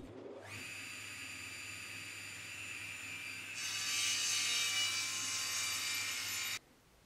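A saw spins up with a steady mechanical whine, then bites into wood for a Kumiko jig set at a miter gauge angle, the cut growing louder and rougher for a few seconds before stopping sharply.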